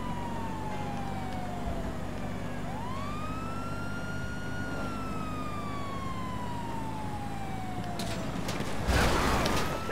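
Police car siren in Grand Theft Auto V during a chase, a wailing tone sweeping slowly up and down over engine rumble, with a burst of crashing noise near the end.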